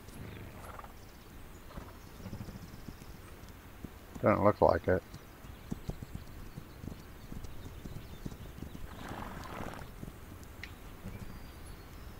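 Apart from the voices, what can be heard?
horse hooves clip-clopping and neighing in a video game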